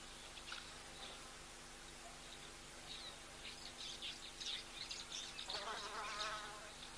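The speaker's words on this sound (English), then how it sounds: "couple of flies and bugs buzzing around as well." Flies and other insects buzz faintly around an outdoor waterhole, with intermittent soft droning passes that grow somewhat louder toward the end, while faint bird calls sound in the distance.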